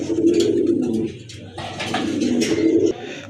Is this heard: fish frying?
no